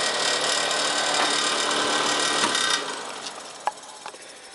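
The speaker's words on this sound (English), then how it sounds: "And the fan rattles a little bit, but that's okay" A 1950s vintage space heater's fan runs with a loud, close whirring rattle that cuts off after about three seconds, leaving a few faint clicks as it winds down.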